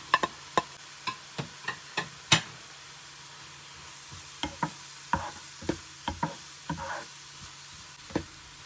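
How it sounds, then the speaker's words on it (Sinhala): Onions and green chilies frying in hot oil, a steady sizzle broken by repeated sharp spatula taps and scrapes against the pan, close and fairly clear with no talking. "දැන් මේ ලූණු අමු මිරිස් හොඳට තෙල් වල බැදිලා තියෙන්නේ."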